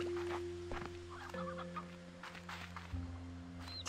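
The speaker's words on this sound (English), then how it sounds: "Chicken." A chicken clucks in the video game Slime Rancher 2, a few short clucks over steady game music and ambient tones, fairly close and without speech.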